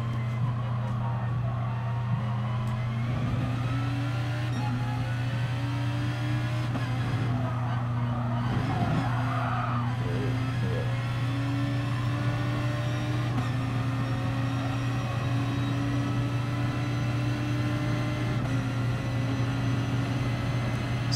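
Honda NSX Gr2 race car in GT Sport, engine droning loud and steady with pitch rising and falling through gear changes around the Blue Moon circuit, with faint talk over it.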